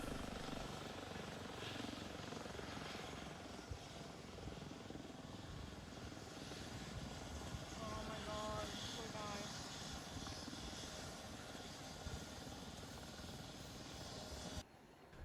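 A rescue helicopter comes in to land on a beach, its rotor chop and engine whine forming a steady, fairly loud wash that runs continuously before cutting off abruptly at the end.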